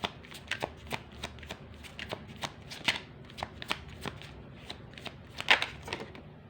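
Tarot cards shuffled in steady, quick riffling bursts, a run of crisp papery snaps repeating across the span, close and clear with no voices over them.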